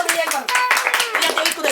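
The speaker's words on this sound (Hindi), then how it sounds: "रेखा के लिए एक बार तालियां बजाई जाए।" A small group claps briefly for a contestant at a tongue twister challenge, quick uneven hand claps close by, with voices talking and chattering over them.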